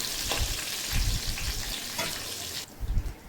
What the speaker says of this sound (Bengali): ফোড়নে একটু ভাজা হতে থাকুক ফোড়নটা।